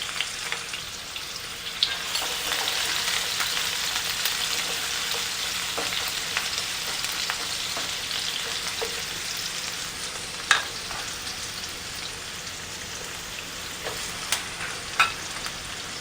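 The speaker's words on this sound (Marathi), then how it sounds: "त्यामध्ये आपण कांदा परतून घेणार आहे. कांदा आणि टोमॅटो" Onion and tomato sauté in oil in a pan for stuffed eggplant, a steady hissing sizzle with a few faint clicks of stirring, close and continuous without any talking.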